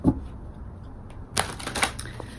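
A couple of quick, crisp riffling bursts of cards being shuffled close by, after a moment of near quiet.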